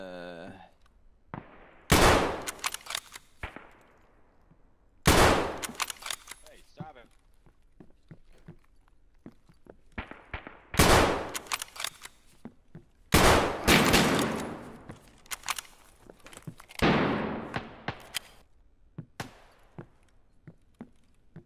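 Gunfire in the video game Escape from Tarkov, several separate loud bursts of shots spaced a few seconds apart, with quieter thumps and movement between them and people talking over the action.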